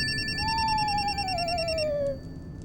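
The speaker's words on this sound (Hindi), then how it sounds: "एक मिनट, फोन मेरा बज रहा है" A phone rings with a steady electronic warble of bright repeating tones, loud and close, while a separate sliding whistle-like tone passes under it before the ringing cuts off near the end.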